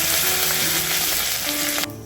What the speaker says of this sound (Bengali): ভালো করে ফোড়নটাকে ভেজে নেবো